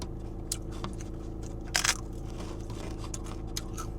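A single sharp crunch as a brittle papadum snack is bitten, a brief crackling burst against a quiet steady background hum.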